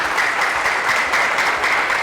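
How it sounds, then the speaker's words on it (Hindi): An audience at a talk on Ayurvedic cancer treatment claps loudly and continuously, a thick and steady wash of applause with no voices over it. "एक बार जोरदार तालियां इनके लिए होनी चाहिए."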